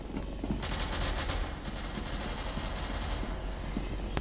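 Rapid automatic gunfire in a video game, with fast rattling bursts in the middle distance and a continuous rumble underneath.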